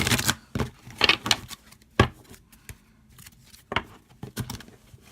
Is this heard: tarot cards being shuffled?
yes